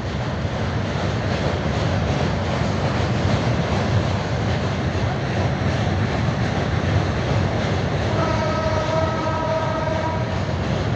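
A long passenger train rolls steadily past near Kushtia, its wagons giving a loud, continuous rumble and clatter throughout, with a sustained horn-like tone joining in near the end.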